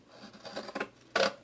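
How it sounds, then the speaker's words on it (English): Scissors cut through paper while making a DIY magazine holder, giving a few short, close crisp snips and rustles. A sharper, louder snip comes at the end. "I'm just going to go through with my scissors, and I'm just going to start at the top corner and cut all the way down"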